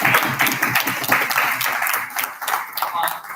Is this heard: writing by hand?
no